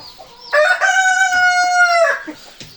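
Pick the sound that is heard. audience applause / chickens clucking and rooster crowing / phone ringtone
chickens clucking and rooster crowing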